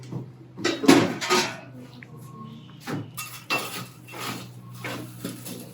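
Metal cookware clanks and scrapes on a hearth as a Dutch oven and hot coals are handled, several sharp clinks and knocks spread irregularly, close and moderately loud.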